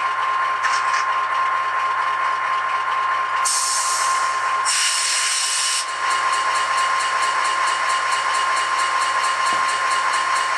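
An HO scale Norfolk Southern SD9 model locomotive's sound-equipped engine hums and hisses steadily, revving with two louder bursts of rushing hiss partway through, close and continuous.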